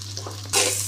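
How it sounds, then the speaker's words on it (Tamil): Onions are tipped into hot oil and burst into a loud, bright sizzle that keeps hissing steadily, close by, after a quieter moment of stirring. "எண்ணெய் ஊற்றி எண்ணெய் காஞ்சதும் வெங்காயத்தை வதக்கணும்."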